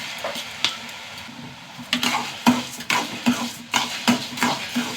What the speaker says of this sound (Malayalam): മുതല നന്നായി വറക്കട്ടെ